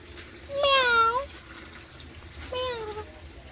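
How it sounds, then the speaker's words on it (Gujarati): A pet cat meows twice near the microphone, a long rising-falling call followed by a shorter one after a pause, with faint running water from dishwashing in the background. "અમારી બિલ્લી આવી ગઈ છે"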